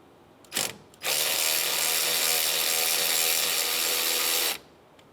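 A 10 mm socket on a power driver backs out the power steering hose clamp bolt on a 2003-2011 Honda Element: a brief close buzz, then about three and a half seconds of steady, loud mechanical whirring that cuts off abruptly.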